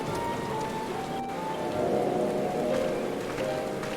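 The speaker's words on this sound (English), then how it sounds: "And it's raining." Steady rainfall in the video game Final Fantasy XIV: Shadowbringers patters continuously on surfaces at night, a dense hiss of drops with a faint tonal hum underneath.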